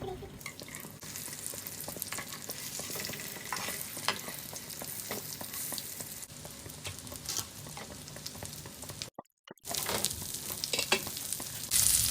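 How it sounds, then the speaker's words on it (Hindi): Shami kebabs fry in a pan with a constant close sizzle and crackle, broken by irregular clicks and scrapes, a brief drop to silence, and then loud sizzling again. "शामी कबाब फ्राई, और इसको ऐसे डिप करेंगे।"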